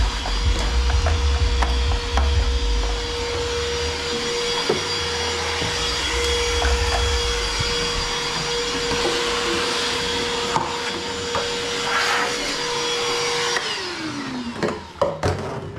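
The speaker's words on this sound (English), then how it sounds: "I can vacuum this up real quickly" A vacuum cleaner, used during a rack repair, runs with a steady loud drone for about fourteen seconds, then switches off and winds down, followed by a few knocks and clatters.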